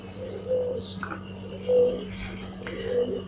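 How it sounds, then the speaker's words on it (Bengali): A pigeon coos nearby in a few soft, repeated low calls over a steady background hum, with faint bird chirps around it and no talking. "এই যে সেই কবুতর।"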